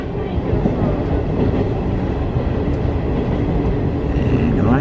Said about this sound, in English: It's only a two-car train,